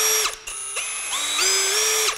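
A power drill runs on its low-speed setting of about 500 RPM, its motor whining in short bursts as it spins up, holds and winds down, loud and close with no talk.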